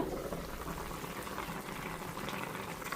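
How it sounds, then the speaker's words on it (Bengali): Cauliflower curry simmers in a pot, a steady, dense bubbling and hiss that holds evenly throughout at close range, with no voices. "অনেকক্ষণ হলো ফুলকপির তরকারি রান্না হচ্ছে"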